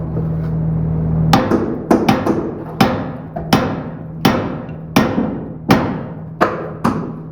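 A hammer strikes a workpiece in about ten sharp, loud, ringing blows at an uneven pace, close by. A low steady hum sits under the opening second, and no one speaks.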